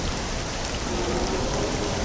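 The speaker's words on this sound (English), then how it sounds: "This rain's like acid." Steady, dense rain pouring down without pause in the video game Star Wars Jedi Academy, a constant hiss of drops hitting surfaces, with no voices.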